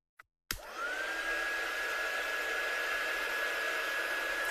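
Hair dryer drying watercolour ink on a handmade card: a brief click, then the motor kicks in and settles into a loud, steady whirring blow with a constant whine, close by and uninterrupted.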